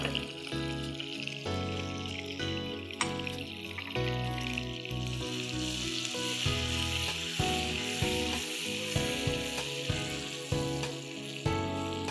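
Ginger and garlic slices sizzle and fry steadily in a pan of hot oil for a chicken bites dish, a loud, continuous crackle with no talking.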